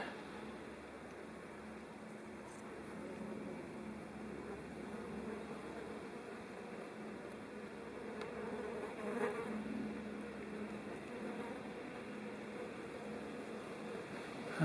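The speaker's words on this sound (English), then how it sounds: "there are hoverflies, bumblebees and wasps taking advantage of this autumn bonanza too" Steady insect buzzing hums throughout, a low continuous drone of bumblebees, wasps and hoverflies close by on autumn ivy blossom, with faint outdoor background.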